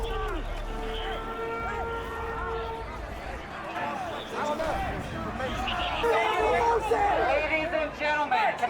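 Protest crowd of at least 2,000 on the east side of the US Capitol, a dense babble of many voices with scattered shouts, growing louder and more agitated toward the end, close and continuous.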